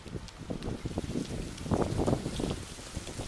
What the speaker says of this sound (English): maybe you can hear that wind